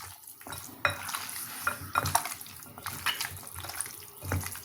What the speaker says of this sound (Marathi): हे पुन्हा एकदा सगळं छान मिक्स करून घ्यायचंय.